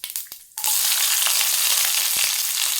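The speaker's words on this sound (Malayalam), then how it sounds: "നമുക്ക് കുറച്ച് എണ്ണ ഒഴിച്ച് കൊടുത്ത് കടുക് താളിക്കാം" Mustard seeds tempering in hot oil erupt into a loud, steady hissing sizzle after a few initial taps and pops, the crackle staying constant and close throughout.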